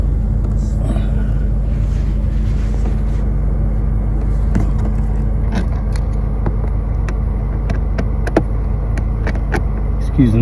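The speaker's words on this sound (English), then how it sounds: "Excuse the noise. Running the engine, heating it up, ready for changing the oil." A Mercedes SLK R170 engine idles steadily to warm up before an oil change, a continuous low rumble close by, with scattered metallic clicks and small tool sounds over it.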